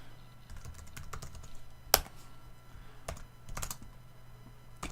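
Keyboard typing up close, a steady patter of key clicks with a few louder, sharper strikes scattered through.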